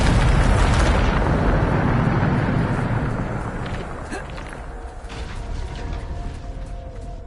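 Bombarda spell explosion in the Hogwarts Legacy video game, a loud rumbling blast that fades over several seconds into crackling debris and settling noise.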